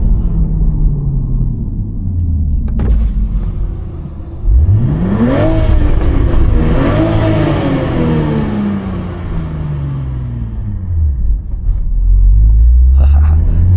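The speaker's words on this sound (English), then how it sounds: "I wanna stop here and try to rev it in neutral." A 2024 Toyota GR Supra A91 manual, 390 hp, is revved hard in neutral while stopped, its engine note climbing in two sharp rises and falling back to a deep, rumbling idle, loud and close throughout.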